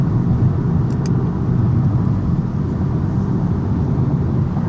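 A car engine set to sport mode gives a steady, loud low rumble that holds at an even level throughout, with no voices and only a couple of faint brief high ticks near the start.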